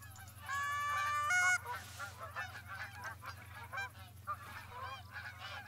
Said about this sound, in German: Mit dem Bogen jetzt auf die Gänse.